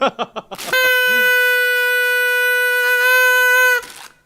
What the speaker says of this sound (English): Said the truck, honking at Phil.